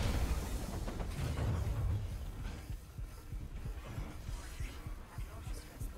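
A low, throbbing heartbeat pulses through the first seconds of the Observer video game, loud and close, then gives way to quieter, irregular low thumps and a faint hum.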